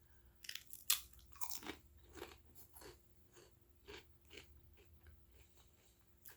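Lay's Cool Ranch Doritos and Funyuns flavor chips being bitten and chewed up close, a few sharp crunches followed by softer, rhythmic munching, with no talking.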